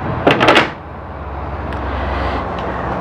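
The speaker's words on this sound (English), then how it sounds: "Notice these are all full extension drawers too, with nice metal glides, so they're heavy duty." Full-extension drawers on heavy-duty metal glides in the kitchen of a 2016 Keystone High Country Montana 374FL fifth-wheel RV, sliding and closing in a quick cluster of close rattling clacks, followed by a quiet room hum.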